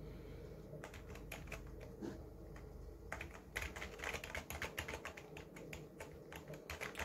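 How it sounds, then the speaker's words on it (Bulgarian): Typing on a Fury Hurricane computer keyboard, a rapid irregular patter of sharp clicky keystrokes, close and fairly quiet, with bursts of faster taps in the second half. "Сега ще се поразходим малко с тази клавиатура."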